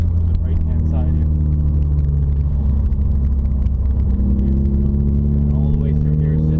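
A car accelerating steadily during a driving lesson, its engine drone loud and continuous with a rising hum as it builds speed, heard from inside the cabin.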